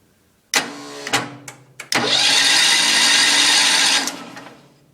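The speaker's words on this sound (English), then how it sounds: "Film the engine cranking" A Wheel Horse 310-8 garden tractor engine with its head removed and the intake valve stuck open, struck by a few short starter bursts and then cranking steadily for about two seconds before winding down, close and loud.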